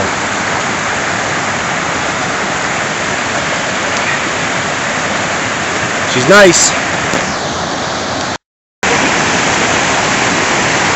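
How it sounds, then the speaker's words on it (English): A river and a brook rush and splash steadily at Twin River on a hike toward a big waterfall, a broad continuous roar with a person speaking briefly over it and a short dropout near the end. "here we are, I think, at Twin River. Two rivers or whatever it is, or a river and a brook"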